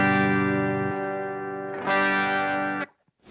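Electric guitar played through a Boss OS-2 Overdrive/Distortion pedal set to overdrive mode, a sustained crunchy chord ringing with rich harmonics, swelling brighter and louder near the end before cutting off abruptly.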